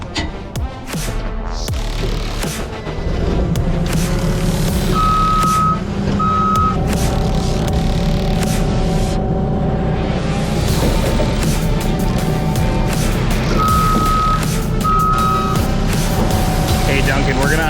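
A truck backing up at a concert load-in sounds repeated pairs of loud reversing beeps over a rumbling idling engine, with people talking nearby.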